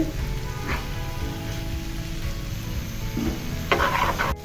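Mixed vegetable and cabbage fry being stirred in a hot pan over high heat, a continuous sizzle broken by several scraping, clattering stirs toward the end.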